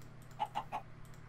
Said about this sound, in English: if they hear the chickens, they can tunnel through any wall